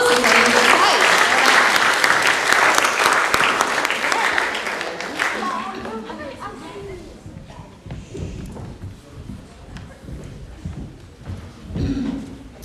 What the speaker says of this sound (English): let's give these swimming champions a round of applause